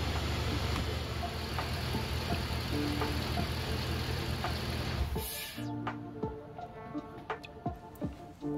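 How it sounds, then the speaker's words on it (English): A car engine idles steadily during a head gasket test, then rises briefly as it is revved and drops away, leaving scattered sharp clicks and knocks close by. "Rev the engine a bit towards the end of the 10-minute mark."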